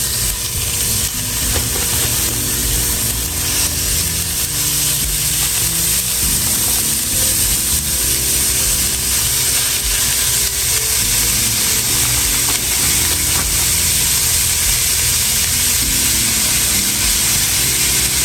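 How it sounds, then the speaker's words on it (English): About a pound of ground beef sizzles in a hot pan, a loud, continuous hissing crackle that holds steady throughout with faint clinks of stirring. "in this hot pan, we're about to put about a pound of ground beef"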